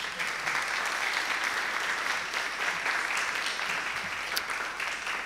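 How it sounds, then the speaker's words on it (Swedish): Warm, sustained applause from an audience welcoming a speaker to a political and philosophical discussion event in Almedalen, steady clapping that holds for several seconds. "välkomnar med mycket varm applåd"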